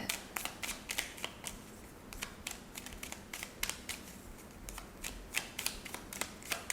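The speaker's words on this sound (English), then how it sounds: "I always wait for follow-up cards when I'm shuffling on camera" Tarot cards being shuffled by hand, a quiet run of quick crisp riffling clicks in irregular bursts, close and unaccompanied by talk.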